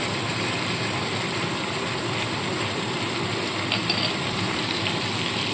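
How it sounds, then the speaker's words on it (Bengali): Spiced masala for stuffed pointed gourd fries steadily in a pan as cashew nut paste goes in, a continuous close sizzle with faint scraping and no voices. "এই এবার আমি এর মধ্যে যে কাজু বাদাম বাটাটা রেখে দিয়েছি বেটে সেইটাকে দিয়ে দিচ্ছি"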